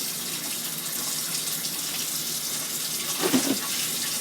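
A Mainstays personal blender cup is rinsed under a running kitchen tap: a steady, close rush of water with a brief louder splash near the end, and no voices.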